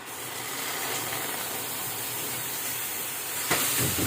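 Spice paste hits a hot pan for oil-free mutton, giving a steady, loud hissing sizzle that holds throughout, with a small clatter near the end.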